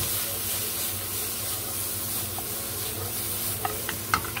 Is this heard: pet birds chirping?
no